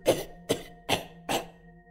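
Four separate harsh coughs, evenly spaced about half a second apart, close and fairly loud against a faint steady hum, then the sound trails off into quiet.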